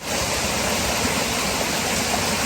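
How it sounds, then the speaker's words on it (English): Laurel Creek, the water source for a nearby trail shelter on the Appalachian Trail, pours with a steady, close, full rush of flowing water, unbroken and with no voices heard. "This is Laurel Creek, and it's the water source for the Laurel Creek shelter, and it's very close, and it's lovely."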